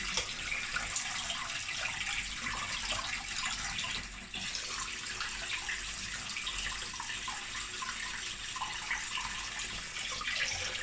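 Cold water runs steadily from a kitchen tap over a moka coffee pot in a sink, a continuous hissing splash that holds an even level for the whole stretch with no talking.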